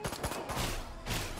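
Rapid bursts of gunfire crackle densely and loudly in the alien-invasion game Destroy All Humans, a short volley of overlapping shots aimed at the player.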